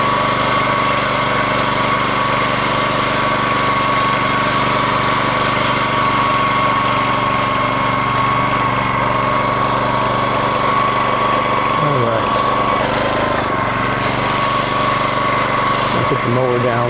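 Toro Greensmaster 1600 walk-behind greens mower running steadily and loud up close, a continuous droning engine hum with slight pitch shifts, and a voice speaking over it.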